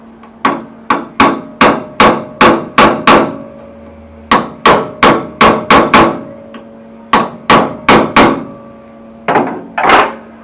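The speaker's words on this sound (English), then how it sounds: "And then basically tap it down inside." Sharp hammer taps on car body sheet metal during cowl rust repair on a Holden Torana UC, struck in quick rhythmic bursts of several blows with short pauses between, close and loud.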